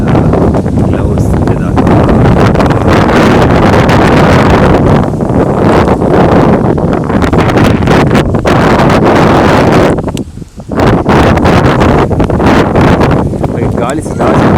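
Strong outdoor wind buffets the microphone in a loud, continuous roar with gusty rumbling, easing only briefly near the ten-second mark before surging again.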